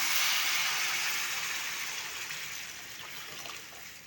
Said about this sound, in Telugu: చింతపండు నీళ్ళు కూడా పోసేస్తున్నా